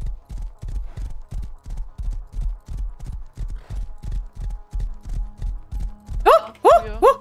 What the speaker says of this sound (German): da war mein Pferd kurz betrunken